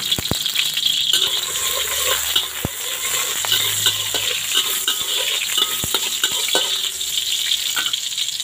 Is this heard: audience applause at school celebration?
no